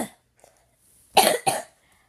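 Two sharp, close coughs in quick succession after a moment of quiet.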